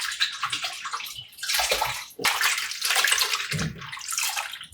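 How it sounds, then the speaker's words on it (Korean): Spring cabbage (bomdong) leaves being rinsed and swished in a bowl of water, with close splashing and sloshing in uneven bursts, no talking. "잡티가 많아서 물에 3번 정도 깨끗이 헹궈주고"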